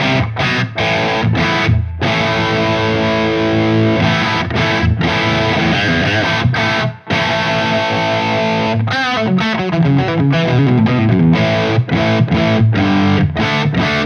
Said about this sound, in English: Nice and thick and juicy for lead tones, or you can roll it back and thin it out